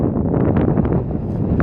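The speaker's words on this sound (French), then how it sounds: "comme vous pouvez l'entendre sur la vidéo, veuillez nous excuser si vous ne nous entendez pas très bien, il y a un peu de vent effectivement" Wind buffets a microphone outdoors on a hillside in the Corbières massif near Névian, a loud low rumbling roar that fills the short stretch without a break.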